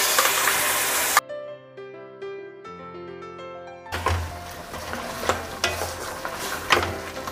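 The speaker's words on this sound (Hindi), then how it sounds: "जो मटन पका के रखे थे इसको मैं डाल देंगे।" Cooked mutton tipped into a pan of browned onions and stirred, giving a steady frying sizzle with scraping bursts that comes in after a short stretch of musical tones.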